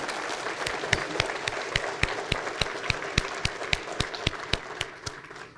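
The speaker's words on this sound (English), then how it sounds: "Let's give our school district officials and Build a Better Broken Arrow a great round of applause" Applause from a civic audience at a city address, a dense wash of many hands clapping with sharp individual claps standing out in a loose rhythm, steady then tapering slightly toward the end.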